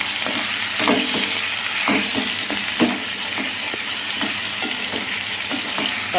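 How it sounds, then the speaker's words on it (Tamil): Tomatoes and onions sauté in a pan for a Tamil sundal kuzhambu, salted, with steady close sizzling broken by repeated scraping stir strokes. "தக்காளி வந்து கொஞ்சம் நல்லா வதங்கி வரட்டும்"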